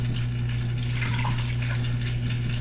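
Water with dissolved bouillon cubes poured over a roast in a home kitchen, a steady, continuous gush and splash against a constant low hum, with no talking.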